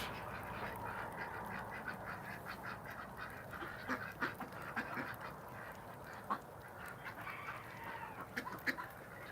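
A flock of farm ducks calls continuously at feeding time on a cold day, a faint, busy chorus of overlapping quacks with scattered louder calls standing out.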